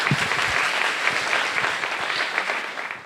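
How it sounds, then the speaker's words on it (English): An audience breaks into steady, full applause to welcome a panel mediator at a Zionism seminar, with dense clapping sustained evenly throughout and no voices rising above it. "let's give them a round of applause and welcome them"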